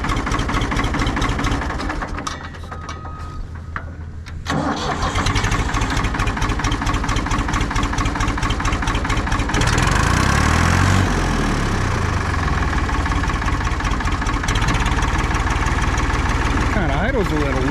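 An old combine harvester engine idling low after a hard start, a loud steady mechanical throb with a brief dip and then a heavier rumble as the revs shift, running alone close by.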